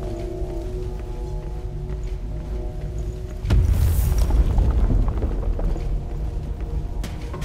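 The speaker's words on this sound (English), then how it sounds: "Explosion originated." A heavy explosion in the video game Deathbound erupts about halfway through, a sudden loud low boom that lingers as a rumbling, crackling wash over a steady ambient background.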